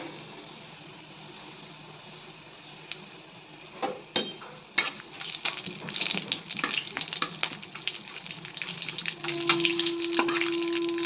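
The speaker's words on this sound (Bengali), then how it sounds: "প্রথমে জিরে, শুকনো লঙ্কা এগুলো সব দিয়ে দিলাম।" Cumin seeds and dried chillies hit hot oil in a pan and begin to sizzle, a crackling spatter that builds from quiet to steady and loud, with a few clinks of utensils up close.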